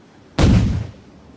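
A single sharp, loud shot from a swivel gun mounted on a British longboat during a tabletop-style raid on a French settlement's dock, a sudden blast with a short rumbling decay.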